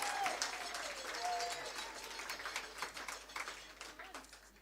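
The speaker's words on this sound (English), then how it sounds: "Keep clapping until she gets here so that she knows." Audience at a human rights event applauding as a law society president approaches the stage, steady clapping with a few voices and cheers mixed in, moderately distant.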